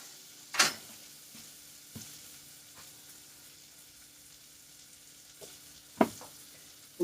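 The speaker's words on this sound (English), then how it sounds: "We're getting the butter cooked down." Butter sizzles softly as it browns in a pot, a low steady crackle broken by a few sharp clanks and scrapes of a utensil against the pot, with no one talking.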